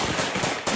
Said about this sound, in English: they come under heavy gunfire from Syrian rebels